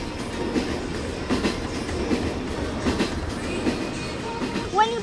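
The Metro ride train at Legoland Dubai clatters along its track with regular clickety-clack wheel beats and a rolling rumble, close by and fairly loud, ending in a brief squeal.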